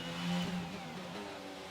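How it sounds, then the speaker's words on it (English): A race car engine in a racing video game drones steadily as the car comes into the pits, a brief, fairly quiet mid-pitched hum that swells slightly early on before levelling off. "we come flying into the pits now"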